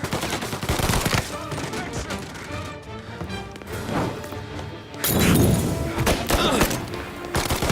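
A dense, chaotic gunfight in Mafia: Definitive Edition, with overlapping rapid shots, bursts and crashing impacts that run continuously and loudly under shouted voices and game music.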